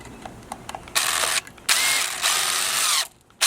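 Power drill driving screws to fix a wire stripper onto a wooden board, with a few short ticks and then long loud whirring bursts that stop and restart, close up and with no talking.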